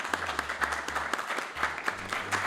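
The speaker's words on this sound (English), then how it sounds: "let's give one more round of applause" A short burst of applause for guests at the close of a podcast episode on local elections administration, fairly faint, with a few claps audible distinctly above the general patter.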